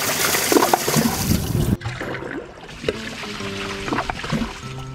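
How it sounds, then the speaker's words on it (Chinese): A toilet flushing during a comparison of toilet glaze coatings, a loud rushing swirl of water for nearly two seconds, then quieter draining and refill gurgles, with brief voices. "啊，要冲水啊！"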